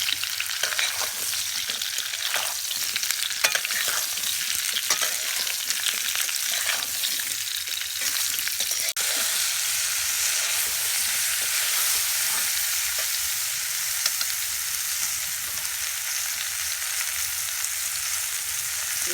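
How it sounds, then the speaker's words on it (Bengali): Mango pieces for a salted pickle fry in hot oil, a dense continuous sizzle and hiss that runs steadily throughout with occasional soft stirring scrapes, no talking. "আমটা দিয়ে একটু ভাজা ভাজা করে নেব"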